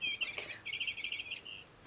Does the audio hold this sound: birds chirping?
yes